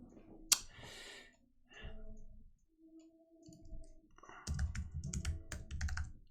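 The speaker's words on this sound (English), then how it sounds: "I'm also not a quick typer." Slow, uneven typing on a computer keyboard, with scattered clicks and pauses, a sharp tap early on, then a denser burst of keystrokes near the end, close and fairly quiet.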